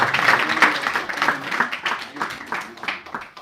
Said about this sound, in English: let's give a big round of applause to Prabhu.